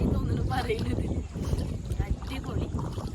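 Strong wind buffets the microphone in low rumbling gusts while a voice talks intermittently beneath it.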